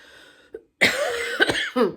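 A person coughs in a harsh, close fit: one small cough, then a long raspy burst and two more hacking coughs.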